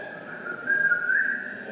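A person whistling in a film scene to communicate with small spy or agent objects, a single sustained high whistle that swells in the middle, with no talking.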